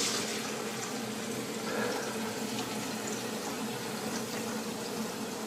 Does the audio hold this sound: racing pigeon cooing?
no